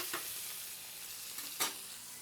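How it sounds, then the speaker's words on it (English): A tri-tip fat cap searing in a hot pan gives a faint, steady sizzle, broken by a couple of brief louder spatters. "A really nice sear on this fat cap. I'm just going to flip it and get a nice sear on the other side too."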